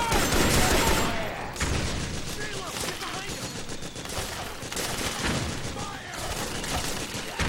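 Gunfire from the video game Metal Gear Solid 4: Guns of the Patriots, with dense bursts of rapid shots and booming reports rolling over one another, loud and continuous across several seconds.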